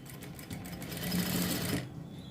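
A sewing machine stitches blouse cloth in one steady whirring run that swells slightly in the middle and stops abruptly near the end, close and alone with no voices.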